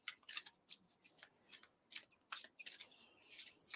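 A deck of oracle cards is shuffled by hand, giving soft, irregular riffling and flicking bursts in quick succession, close and fairly quiet.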